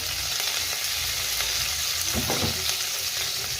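Cumin, garlic and green chili frying in a hot pan for a Marathi fenugreek leaf (methi) dish, a steady close sizzle with occasional stirring scrapes and no voices.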